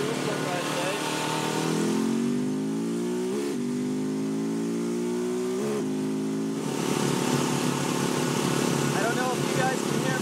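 A KTM 690 Enduro single-cylinder motorcycle revs and accelerates through several gear changes on a ride, the engine note climbing and dropping under steady wind noise while a rider talks over it.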